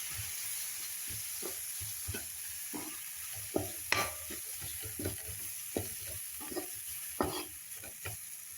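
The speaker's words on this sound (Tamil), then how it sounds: "போட்டுட்டு அதையும் நல்லா கலக்கிடணும்" Maggi noodles, four packets, are stirred in a pan with repeated, fairly regular scraping and clinking strokes over a quiet, steady sizzle, with no speech.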